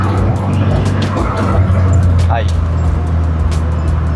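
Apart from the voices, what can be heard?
modified 1996 Honda Civic with D16Y8 intake accelerating away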